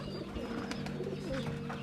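Soft, low coos from high-flyer pigeons nearby, a few gentle warbling calls over quiet background noise.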